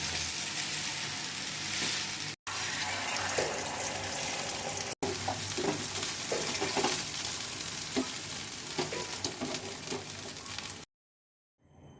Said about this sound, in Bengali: তো ডিমটাও আমি ভেজে নেব।